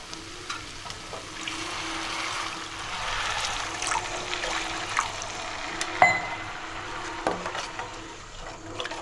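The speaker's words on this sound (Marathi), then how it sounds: "पाणी घालू." Water pours into a pan of spiced, sautéed vegetable masala made with okra, giving a continuous hissing, trickling sizzle at moderate level with a few clinks of utensils near the end.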